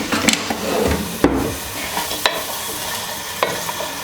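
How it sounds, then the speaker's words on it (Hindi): Chopped onions fry in half a cup of oil in a pot, a steady sizzle broken by a few sharp clanks and scrapes of a stirring spoon, with no talk. "मैं ऐड कर रही हूँ हाफ कप ऑयल, और सबसे पहले ये जो प्याज कटा हुआ है, ये प्याज को ज़रा ब्राउन करके"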